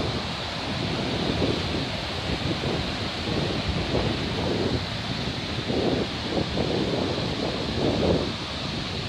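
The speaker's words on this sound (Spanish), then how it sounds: "Escuchen el ruido del agua." Skógafoss waterfall in Iceland roars steadily and loud at close range, a dense, continuous rush of falling water filling the whole clip without a break.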